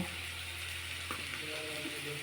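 Spices with salt, coriander and cumin powder frying in a pan, a steady soft sizzle heard close and alone, with a faint scrape of stirring.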